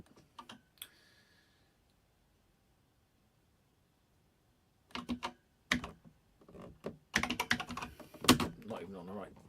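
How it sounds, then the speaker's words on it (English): Keys clack on a computer keyboard in irregular bursts, a few isolated taps first and then a denser run of typing after a quiet gap, fairly close and moderately loud. "don't worry about bad typing"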